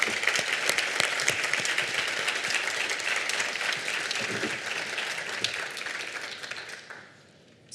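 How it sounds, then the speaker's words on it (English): Conference audience applauding the Humber team at an NGO development session, dense sustained clapping that fades out near the end. "can we give a big round of applause to the Humber team?"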